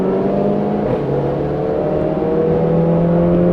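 A 2019 Volkswagen GTI Rabbit Edition drives along with a steady, loud engine hum and whir that rises slightly in pitch, heard close from inside the car and alone with no talk.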